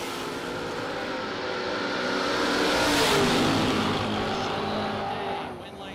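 A 2001 Catfish Camaro drag race car launches and roars past at a drag strip, its engine swelling loud to a peak and then fading off, under an announcer's talk.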